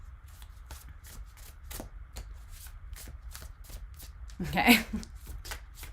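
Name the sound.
shuffling tarot cards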